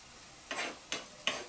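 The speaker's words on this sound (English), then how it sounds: "the onions are sizzling away in the water, just as though it would have been, just as though you would use oil" Onions sizzle in a pan of water, producing three short bursts of crackling hiss in quick succession, close and fairly quiet against a soft background.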